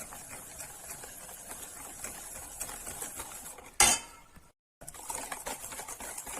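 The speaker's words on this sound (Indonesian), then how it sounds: "Aduk sampai rata." A spoon stirs onde-onde kembang batter in a bowl after margarine is added, giving a steady run of scraping, clinking strokes, then a sharp clatter and a brief silence before the stirring resumes.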